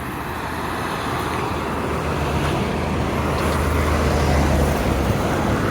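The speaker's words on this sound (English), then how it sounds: "Look at those cars coming from the city." Cars and trucks on the Gulu highway near Kawanda-Maganjo in Uganda, making a continuous broadband rush of road noise with a steady low engine rumble that swells slightly as vehicles pass close by, with no talking.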